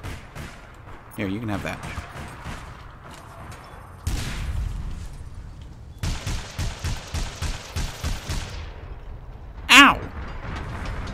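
Gunfire in the video game APB: scattered shots, then a fast rhythmic burst of repeated reports and a sharp loud blast near the end, with someone talking over parts of it.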